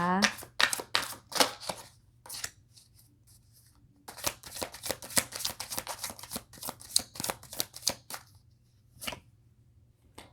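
Tarot cards shuffled during a zodiac reading, a run of quick papery riffling bursts that come and go, close and fairly soft, with pauses between.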